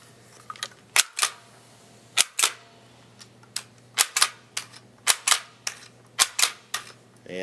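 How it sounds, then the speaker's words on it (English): A Towa Samurai GX three-line hand labeler printing labels gives sharp, loud snapping clicks, about twenty of them. They come in quick pairs and clusters over a low steady hum, and no one speaks. "And now you're printing labels."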